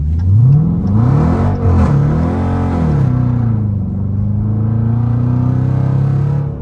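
A car sold as a fake Hellcat revs and whines as it spins and slides, engine pitch rising and falling in loud sweeps, then settling into a steady drone.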